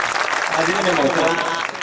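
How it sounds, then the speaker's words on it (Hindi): Applause fills a hall at a mushaira, an Urdu poetry gathering in Balapur, with steady, dense clapping throughout the short stretch and a few voices calling out among it. "बिल्कुल तालियां बजा दीजिए"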